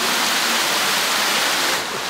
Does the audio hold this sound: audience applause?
no